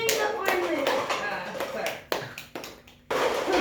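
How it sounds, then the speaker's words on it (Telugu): An audience claps for a 12-year-old boy who stacked glasses 20 levels high, in uneven bursts that swell and fade, with someone speaking over the clapping. "Claps once again."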